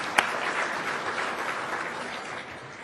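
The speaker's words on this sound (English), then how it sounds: "let's clap to that too" A large conference audience of about 540 people at an ABET keynote claps together in a steady, fairly quiet round of applause that slowly fades, with one sharp clap standing out near the start.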